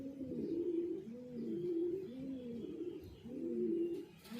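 Pigeons, including a female, coo softly in a steady rolling rhythm of repeated throaty calls, close by and alone with no talk.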